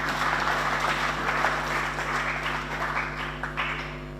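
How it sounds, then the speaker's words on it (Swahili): Guests at a golf tournament prize-giving clap for the minister, a dense, continuous ripple of applause over a steady low electrical hum, with the crowd sounding close and even throughout. "Tumpigie makofi."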